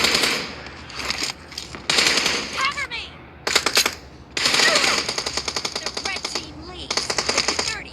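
Automatic gunfire in PUBG, rapid bursts of loud rattling shots separated by short pauses, with a few quieter gaps between volleys.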